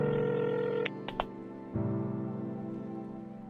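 Telephone number dialed from a phone in a visual novel game, a few short keypad tones followed by a steady ringing tone, heard alone without speech.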